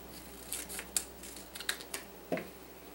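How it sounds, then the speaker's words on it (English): Scissors snipping through folded paper, several quick separate cuts close up in a quiet room, crisp and irregular. "So I'm going to cut right here"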